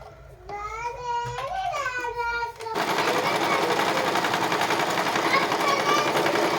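After a few seconds of a person talking, an Usha Janome Marvela sewing machine starts stitching with a steady, loud, rapid mechanical whirr that runs close and unbroken to the end.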